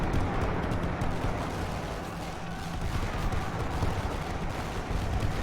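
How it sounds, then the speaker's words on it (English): Dense, continuous rifle fire and distant battlefield rumble in the First World War strategy game The Great War: Western Front, a steady crackling wash with no clear individual shots. "see if we can get some rifle fire going"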